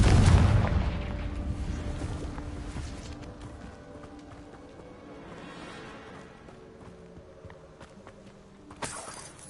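A Confringo blast spell goes off in a Harry Potter video game: a loud, heavy boom opens the moment, then fades into a lower rumble with scattered thuds and faint rattles trailing behind.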